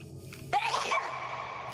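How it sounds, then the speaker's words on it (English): A single sharp human sneeze bursts out close to the microphone, brief and loud, after a moment of near quiet. "I really gotta sneeze."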